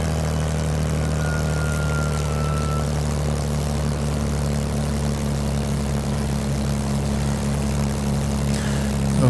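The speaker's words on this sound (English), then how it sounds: "Okay, gonna lower the flaps and lower the gear." A propeller aircraft in Microsoft Flight Simulator 2020 drones steadily as flaps and landing gear are lowered, a constant engine hum with an even tone and a faint whirring whine early on.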